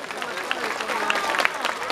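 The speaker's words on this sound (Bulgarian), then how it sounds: "още по-бурни аплодисменти за децата от детска градина Васил Левски, град Свищов." Audience at a Bulgarian folklore show applauds kindergarten children from Vasil Levski kindergarten in Svishtov, a continuous wash of clapping with a few sharper claps standing out and voices murmuring underneath.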